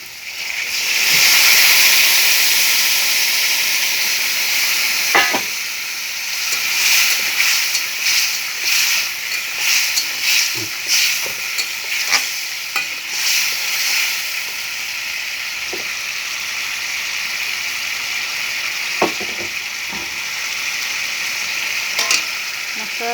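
Ginger, cumin and chilli spices sizzle in hot oil with a steady, loud broadband hiss, broken by scattered clicks and scrapes of stirring throughout.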